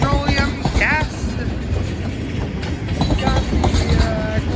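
Freight train of loaded glue tankers and liquefied petroleum gas tank cars rolling past near a log yard in Beecher, Wisconsin, with steady rumbling, wheel clatter and brief squeals throughout, close and loud.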